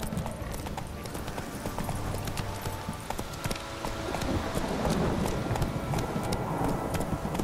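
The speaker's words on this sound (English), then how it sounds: "Run, Roach." Horse hooves galloping in the video game The Witcher 3, a fast rhythmic clip-clop that grows slightly louder and denser over several seconds, heard alone without speech.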